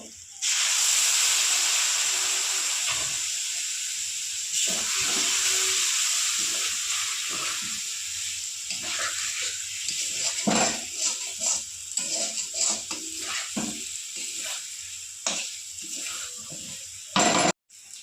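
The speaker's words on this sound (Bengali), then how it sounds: "ভালো করে মশলাগুলো কষিয়ে নিয়েছি" Spices for an egg curry fry in a pan with a loud, continuous hiss and sizzle, joined by occasional stirring scrapes and clinks near the end, heard up close without speech.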